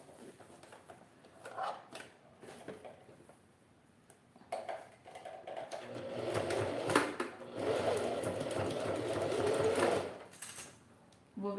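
Sewing machine stitching a test seam on a fabric scrap while making a men's toiletry bag, starting with short clicks and handling noises, then a sustained whirring run of several seconds at moderate volume.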